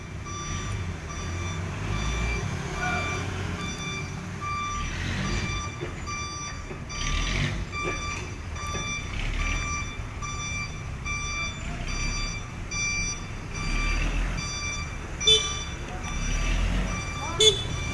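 A 1992 Hino FF Super Ranger truck maneuvers with repeated high reversing beeps pulsing steadily over its low engine rumble, with voices talking intermittently nearby.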